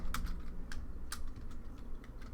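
Keys tapped on a computer keyboard in short irregular bursts of clicks, close and moderately quiet over a low steady hum, with no voices.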